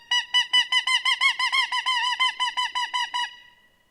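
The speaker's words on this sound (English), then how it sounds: "What you guys just heard right there is people call them shot gobbles" Wild turkey gobblers shock gobbling at a sunset hilltop during a Washington spring hunt, a rapid run of about seventeen loud, evenly spaced honking gobble notes that fade out at the end.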